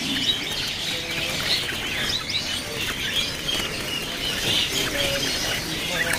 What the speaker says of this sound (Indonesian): Untuk selanjutnya di sini ada burung terucuk ya.